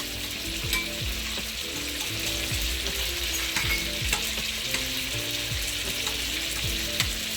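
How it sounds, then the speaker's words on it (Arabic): Grated onion sizzles and fries in oil in a pan as salt, pepper and spices are added for stuffed potatoes with minced meat; a steady close crackle with occasional stirring scrapes, no talking. "البصله اتشوحت، هنحط الملح والفلفل والبهارات."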